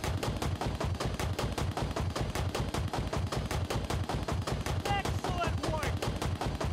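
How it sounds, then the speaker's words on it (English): Rapid, rhythmic bursts of weapon fire in a video game, a steady loud volley of rocket launches and impacts that continues throughout with faint whistling tones near the end. "there go rockets"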